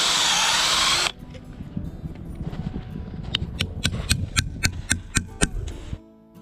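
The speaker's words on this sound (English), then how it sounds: "we drill and tap into a tree with a line." A power drill whirs loudly for a second boring into a maple tree, then stops, followed by a series of sharp rhythmic knocks and taps growing louder as a tap is set.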